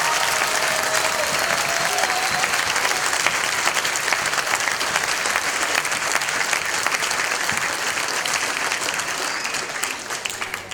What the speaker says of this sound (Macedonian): Аплауз за сите нас